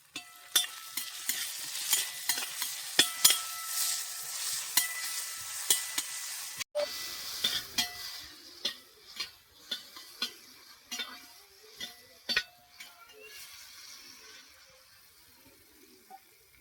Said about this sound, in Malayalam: ഉള്ളി നല്ലോണം ഇങ്ങനെ ഇളക്കി ഇളക്കി കൊടുത്തുന്ന വേഗം വാടി